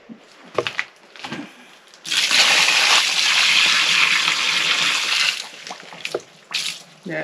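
Water from a bucket poured into a hemp lime plaster mix, a loud splashing gush lasting about three seconds, with brief knocks and faint sounds before and after.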